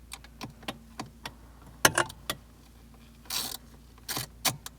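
A 7mm socket on an extension works out the bolt behind the brake light switch of a Chevrolet Sonic, giving a quick series of close metallic ratchet clicks and small clanks, with a brief scraping burst partway through.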